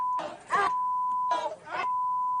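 A steady high-pitched censor beep tone runs throughout, broken up by two short muffled bursts of voice.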